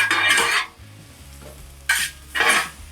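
Onions frying in oil on a smashburger griddle, seasoned with a homemade spice blend, scraped and stirred in two loud bursts separated by a quieter sizzling pause; no talking.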